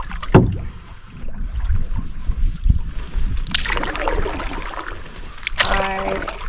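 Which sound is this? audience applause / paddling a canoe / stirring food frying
paddling a canoe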